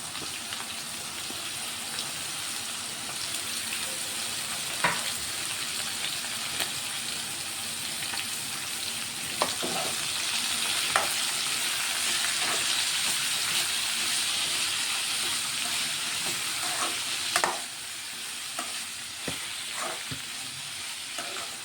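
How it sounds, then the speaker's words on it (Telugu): Ridge gourd peel, cut into small pieces, frying in a pan with a steady close hiss of sizzling oil and occasional scraping clicks from stirring, continuing without talk. "ఇవైతే మంచిగా ఒక 5 నిమిషాలు ఇట్లా ఫ్రై కానిస్తా."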